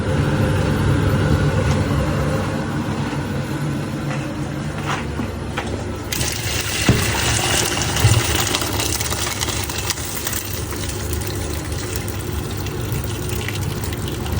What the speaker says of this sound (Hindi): इसको अब हम कर लेते हैं ड्रेन।